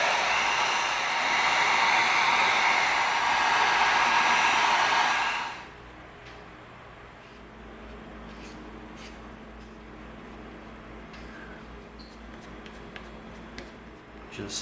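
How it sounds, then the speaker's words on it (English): A heat gun blows hard and steady on EVA foam for a Halo Magnum prop, a loud broadband whoosh for about five and a half seconds before cutting off, leaving quiet room tone with faint small clicks. "Let's get our heat gun ready."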